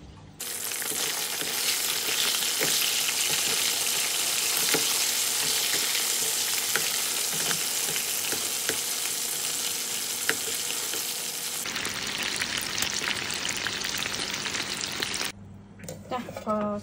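Chicken and cashew nuts stir-frying in oil in a pan, a steady loud sizzle running throughout with occasional scrapes of stirring, shifting in tone near the end.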